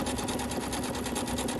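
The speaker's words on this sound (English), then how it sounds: "Go ahead and lower the presser foot down and start your sewing." A sewing machine chain-pieces quilt rectangles with a steady, rapid, continuous run of stitching. The sound is close and even, with no talking.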